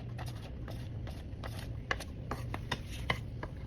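Garlic chopped on a cutting board for a pork and vegetable adobo, a steady run of light knife taps with a few sharper strikes, close and moderately quiet over a low background hum.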